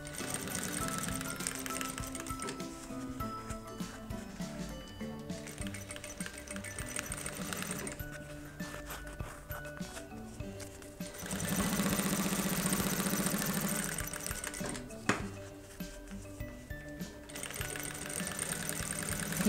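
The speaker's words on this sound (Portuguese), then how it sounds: "vou bater uma costurinha aqui em volta para poder dar acabamento" A sewing machine stitches around the edge of a handmade bag-style necessaire, its steady mechanical whir running continuously near and loud, with brief pauses and changes in pace as the seam is finished and backstitched.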